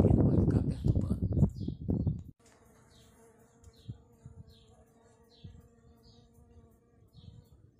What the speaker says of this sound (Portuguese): São 5:15 da manhã, as abelhas começaram a sair.